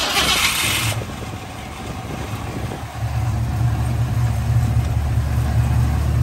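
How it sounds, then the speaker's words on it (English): A 1973 Ford Mustang Mach 1 with a 351 CJ V8 cranks and fires, settling into a low, steady, fairly quiet idle rumble up close. "we are going to fire it up now and then drive it."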